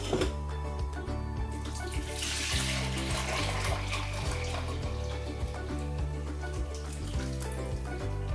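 Liquid with oranges and lemons pours into a jug, a steady splashing gush near at hand with gurgling changes as the jug fills, no voices.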